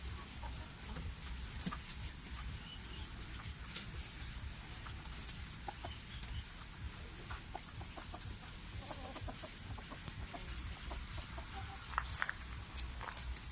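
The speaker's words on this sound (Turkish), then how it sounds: "Bir sürü tavuk var bir de." Chickens cluck and a rooster calls now and then at a distance, quiet and scattered over a soft outdoor background.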